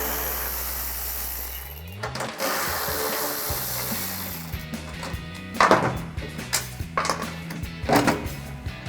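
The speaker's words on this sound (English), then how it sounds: "grab a 10mm socket, we're going to remove this bolt and the one all the way at the bottom" A ratchet turning a 10mm socket to remove a tail light bolt on a 2016-2023 Toyota Tacoma, giving repeated close mechanical clicking bursts after a low humming start.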